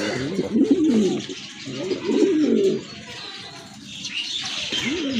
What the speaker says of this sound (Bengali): অনেক সুন্দর একজোড়া ইন্ডিয়ান কালদম কবুতর না ভাইয়া?